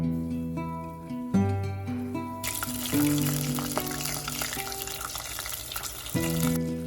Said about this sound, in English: So fry the fried lollipop one more time to get that crispier coating.